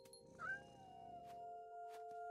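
A cat in the video game What Remains of Edith Finch lets out one short, faint meow near the start, over a quiet, steady tonal hum from the game's background.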